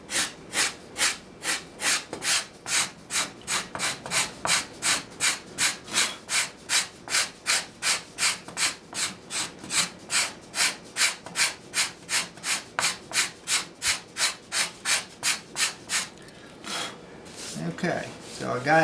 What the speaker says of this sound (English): I told you it'd be the best way to get it with a scraper.